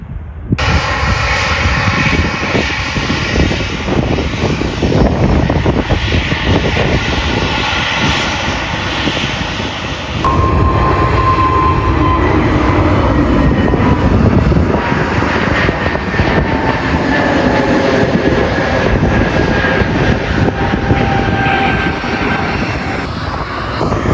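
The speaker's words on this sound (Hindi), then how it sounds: "अभी लैंड किया है कतर एयरवेज ने।" A Qatar Airways airliner lands at Manchester Airport, its engines roaring loud and steady from nearby for the whole stretch, with a slight shift in tone partway through as it rolls down the runway.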